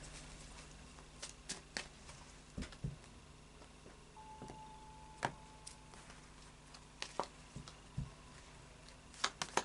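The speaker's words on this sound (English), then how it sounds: "we'll do a final shuffle of the Lightseers Tarot" Soft, quiet riffling and tapping of tarot cards being shuffled, in irregular small bursts with brief pauses, heard close up in an otherwise still room.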